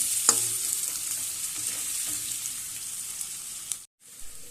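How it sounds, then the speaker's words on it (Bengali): Pieces of boiled yam sizzle steadily in oil while being stirred, with occasional scraping clinks, before a sudden brief cut near the end. "ওলগুলো কিছু সময় তেলের উপরে ভেজে নিতে হবে।"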